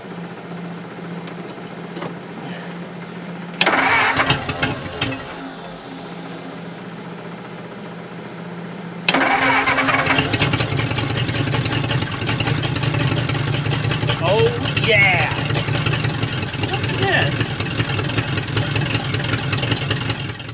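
An old Ford flathead V8 coughs briefly, then cranks, fires and settles into a loud, steady, slightly uneven idle, while excited voices cheer over the running engine.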